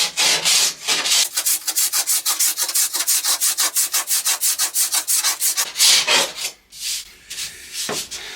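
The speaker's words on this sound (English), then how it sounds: "Do you know what? It's not that easy to scrape this." Rhythmic scraping strokes on the old finish of a wooden Art Deco vanity, about twenty quick, even rasping passes in a steady beat, close and loud, followed by a few slower, irregular scrapes.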